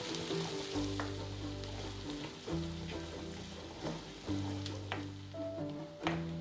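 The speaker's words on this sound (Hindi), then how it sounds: "अब हम इसमें डालेंगे प्याज। प्याज को भी हम हल्का ब्राउन करके लेंगे अच्छे से।" Onions fry in a pan for a restaurant-style Punjabi dal tadka, giving a loud, steady sizzle with occasional stirring scrapes over soft background music.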